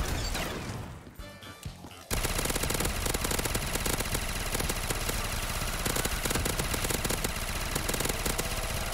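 A powerful gun in the video game MimiCube 2 fires a sustained, rapid burst of automatic shots, loud and dense, kicking in sharply after about two seconds of quieter clatter.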